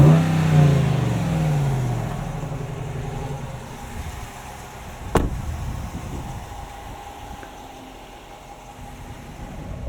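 A 2026 Ram 1500 pickup with the 5.7L Hemi V8 accelerates, the engine note climbing and then settling into a lower steady cruising drone heard from inside the cab, with a brief sharp click midway.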